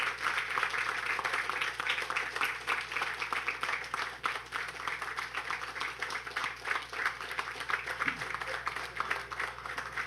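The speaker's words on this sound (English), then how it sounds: "I will tell you when to stop clapping." Audience clapping for a speaker at a church gathering, continuous fast applause from a crowd, fairly distant and moderately faint over a steady low hum.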